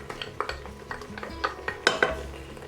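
Onions tipped into a Cosori electric pressure cooker over sautéed pork, giving a run of close, light clatters and scrapes of utensil against the metal pot, with a couple of sharper knocks near the end and no talking.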